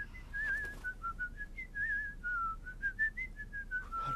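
A sweet, warbling whistle glides up and down in a steady melodic line, clear and close, with no talking over it.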